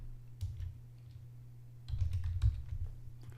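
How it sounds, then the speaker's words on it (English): Keys of a computer keyboard tapped to enter a customer name, short bursts of close clicking separated by a pause, with no talking. "I can start typing the customer name right"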